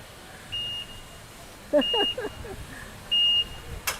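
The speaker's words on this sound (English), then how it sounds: "So that's the beeping sound we've got." Three short electronic beeps sound at steady intervals from a Skyjack lift in downtown Auckland, moderately loud, with brief murmured talk between them.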